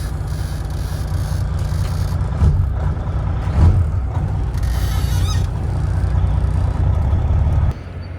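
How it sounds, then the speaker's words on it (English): Red Peterbilt truck with a new Detroit engine idling and revving through straight exhaust pipes, a loud steady low rumble with brief swells, heard up close. "Listen to these straight pipes."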